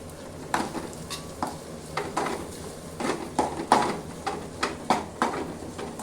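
Food sizzles in a hot pan while a utensil stirs and scrapes in irregular bursts, close and fairly loud.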